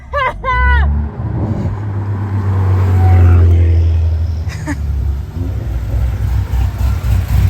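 An 840 hp Demon Jeep Wrangler doing a rolling burnout on a drag strip, a sustained loud engine roar that swells and holds, with people talking briefly at the start.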